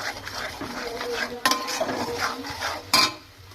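A spoon scrapes and stirs masala paste of ground cashew and raisin frying in a pan for Kashmiri potato dum, with soft clinks and two sharper knocks against the pan. The sounds are close and fairly quiet, with no talking.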